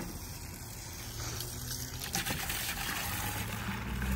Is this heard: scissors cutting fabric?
no